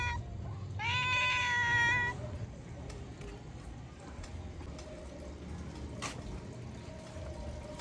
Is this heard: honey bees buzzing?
no